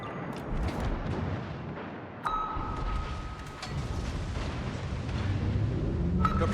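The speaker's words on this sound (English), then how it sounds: "Torpedoes astern." Torpedo hits and explosions rumble through a naval warfare video game played from a submarine. Muffled blasts and a deep, continuous rumble fill the scene, and a brief tonal ping rings out twice. No one speaks.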